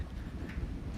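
Wind buffets outdoors on a trail on a windy day, a short burst of low rumbling gusts pressing close against the microphone.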